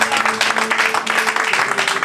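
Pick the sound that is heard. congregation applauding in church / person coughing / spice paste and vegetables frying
congregation applauding in church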